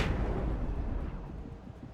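Flashbang blasts from the video game Alan Wake: one loud broadband burst at the start, then a dense rumbling decay that stays heavy through the whole stretch, with no voices.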